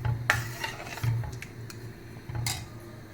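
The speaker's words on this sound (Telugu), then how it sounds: "చక్కెర వేసుకొని అంతా కలుపుకొని ఒక 5 మినిట్స్ ఉండేసి ఆఫ్ చేసుకుందాము." A spoon stirs sugar into vermicelli sago payasam in a pot, making quiet scraping and rubbing strokes in a few uneven passes, with soft clinks against the metal.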